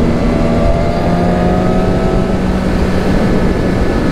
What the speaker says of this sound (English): I'm in 6th right now at 6K RPMs, only at 75 miles an hour